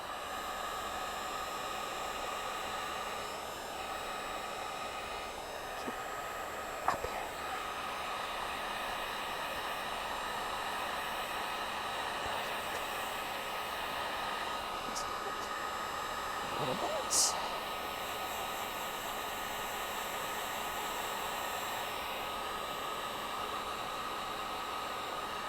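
A hair dryer blows steadily on layers of gesso-coated art, a constant close whooshing hiss with a low hum underneath that holds unbroken from start to finish.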